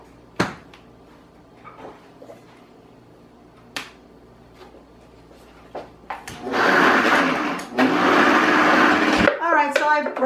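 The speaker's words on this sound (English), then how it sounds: "Okay, so I've put this in the processor, and it says to break it down and then add the egg." A food processor breaks down broccoli and parmesan for keto broccoli balls: a few clicks and knocks while the machine is set up, then a loud, steady whirring grind close by that runs for several seconds, dips briefly and starts again.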